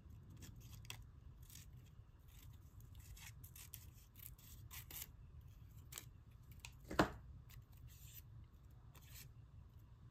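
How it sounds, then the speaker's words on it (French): Scissors snip through a small orange paper scrap for a collage, one quiet close cut standing out against a low steady background hum. "Elle est trop grande, là, mais je vais la couper."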